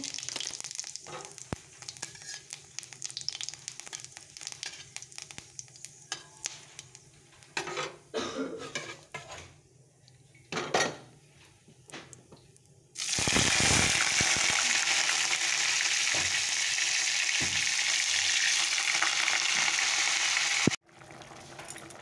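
Cinnamon, dried red chilli and cumin hit hot oil for a tempering, bursting into a loud, steady, close sizzle that runs on for several seconds after scattered kitchen clatter and stirring, then cuts off abruptly.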